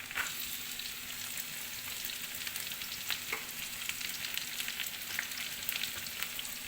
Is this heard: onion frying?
yes